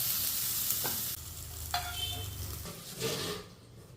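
Grated coconut sautéed in a pan for brinjal chops sizzles softly while a spoon stirs and scrapes through it, with a few clinks of utensil on metal close by.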